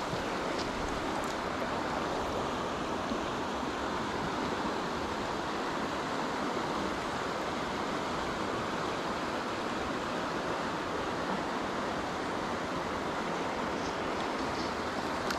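A creek running high after heavy rain, a loud, constant broadband rush of fast water that fills the whole stretch evenly without pauses or voices.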